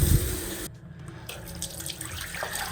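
Hot water runs from a bathroom tap in a house with a Vaillant Ecotec Plus 630 combi boiler, a steady close rush of flow that starts up after a brief low thump.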